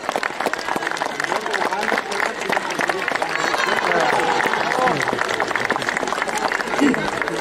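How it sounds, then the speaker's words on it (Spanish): Crowd applause at a rural schools' national holidays parade ceremony in Chile, dense clapping that swells in the middle, with an announcer's voice and crowd noise mixed underneath. "Y como buen chileno también su merecido aplauso"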